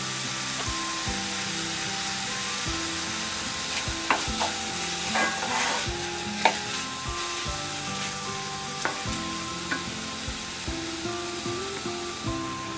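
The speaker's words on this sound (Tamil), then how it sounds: "இப்போ அந்த 2 தக்காளியை போட்டு நம்ம வதக்கலாம்." Chopped tomatoes with onion and garlic, lightly salted, sauté in a pan for tomato kurma, giving a steady close sizzle broken by repeated scraping stir strokes for the whole stretch, with no talking.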